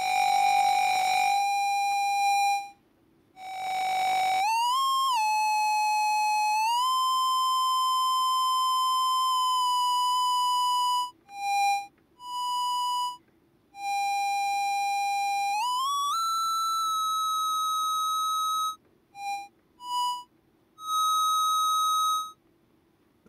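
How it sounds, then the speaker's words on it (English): Feedback oscillators from a no-input mixing board ring as steady pure tones stacked into chords, gliding up in pitch and stopping and starting in sharp bursts with short gaps, clean and sustained with no voices. "We can also tune these up into chords, of course, and they sound very nice together."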